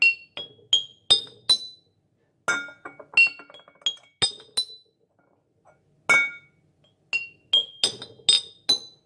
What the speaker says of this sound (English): Kind of made a marimba.